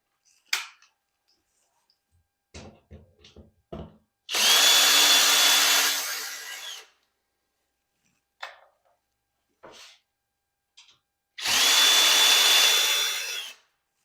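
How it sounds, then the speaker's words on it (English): A cordless power drill backs out the screws holding a bathroom mirror, with two loud whirring bursts of about two seconds each, separated by light clicks and handling knocks. "I've got my cordless power drill here, and there's two screws that are holding this mirror on"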